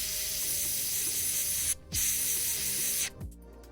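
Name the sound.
spraying paint onto a miniature's shoulder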